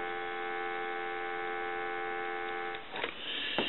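A steady electronic dial tone from a repaired 223G three-slot payphone hums continuously, layered with harmonics, then a couple of clicks and a brief shuffle near the end.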